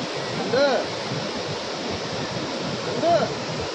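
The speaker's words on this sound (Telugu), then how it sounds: "అసలు ఆ సౌండ్ చూడండి ఎట్లా వస్తుందో" Steady roaring rush of falling water at Ethipothala waterfall near Nagarjuna Sagar fills the whole clip, broad and constant, with a couple of brief whistling tones rising above it.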